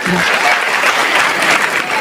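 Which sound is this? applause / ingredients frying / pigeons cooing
applause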